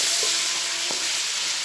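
Chicken browning with garlic ginger paste in a pan, a steady broadband sizzle throughout with a couple of faint spoon clinks, no talking.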